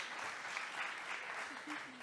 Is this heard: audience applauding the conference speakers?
yes